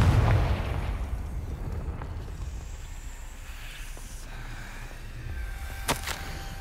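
A Confringo fire-blast spell explodes in a Harry Potter video game, opening with a loud booming burst that rumbles and fades, followed by a sharp crackling pop near the end.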